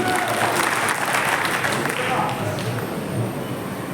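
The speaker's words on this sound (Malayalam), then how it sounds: "അപ്പൊ അദ്ദേഹത്തിന് കൈയടിക്കും" An audience applauds for the moderator at a stage event honouring actor Timy Tom, a steady, dense wash of clapping that holds at a fairly even level throughout.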